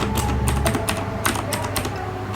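Brisk keystrokes on an Imperion Trooper 7 mechanical gaming keyboard with blue switches, a close, loud run of sharp clicky presses in an irregular typing rhythm.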